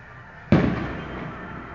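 A single sharp firework bang from a castle display after a quiet moment, during a football promotion celebration in Giresun, followed by a crackling, rumbling tail that lingers at a distance.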